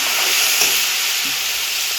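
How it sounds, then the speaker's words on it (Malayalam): Salt brine drained from mangoes is poured into a hot pan while making Kerala-style mango pickle, giving a steady, loud sizzle with steam hiss that holds evenly throughout with no talking. "മാങ്ങയിൽ നിന്ന് ഒഴിച്ചെടുത്ത ഉപ്പുനീര് ഒഴിച്ച് കൊടുക്കണം"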